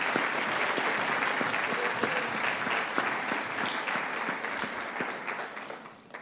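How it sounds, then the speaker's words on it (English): A school assembly audience gives a long, loud round of applause for Year 11 award winners, dense steady clapping filling the hall throughout and easing off slightly at the end. "Just give our Year 11 friends a large round of applause."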